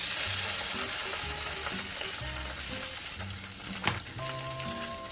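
Crushed red pepper and tomato paste sizzle steadily in a pan while a creamy chicken tomato sauce is cooked, a close, continuous frying crackle with a few faint tonal clinks and a brief louder knock near the end.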